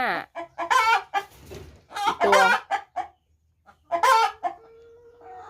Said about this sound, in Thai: ไก่ไข่มีหนึ่งสองสามสี่ห้า